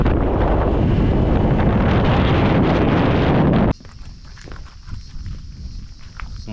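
Footsteps crunch along an outdoor path during a surf trip in Sumbawa, Indonesia, on the way to a small river. Heavy wind buffets the microphone at first, then drops away, leaving softer steps and rustling.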